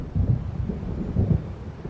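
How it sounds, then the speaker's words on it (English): A thunderstorm approaching in the game Alan Wake Remastered sends low, rolling rumbles of thunder over a dark background of rain and wind, heavy and continuous without any voices. "It seems there's a storm coming."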